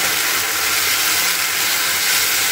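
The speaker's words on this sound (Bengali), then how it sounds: "মিশিয়ে নিয়ে বেশ কিছুক্ষণ আবার এটাকে কষিয়ে নিচ্ছি আলুটাকে" Potatoes are sautéed in a spice mix in a pan for a Bengali-style tangra fish curry. A dense, steady sizzling hiss holds loud and unbroken throughout, with no voices.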